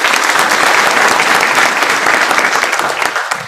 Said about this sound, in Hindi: अगर यहाँ पे हमारे टीम में भी कोई डॉक्टर है तो उनके लिए ताली बजना चाहिए।